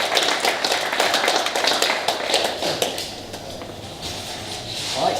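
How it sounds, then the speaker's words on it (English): A gathered group of people claps together in a steady, dense round of applause that carries on without a break, fairly close and moderately loud. "a round of applause to you all for being here"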